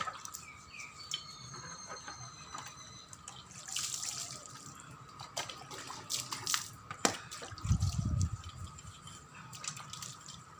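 Water runs and splashes as a grass trimmer is washed clean outdoors, with uneven trickles and drips. Birds chirp faintly in the background.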